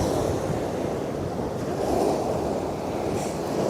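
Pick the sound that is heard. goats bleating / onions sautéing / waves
waves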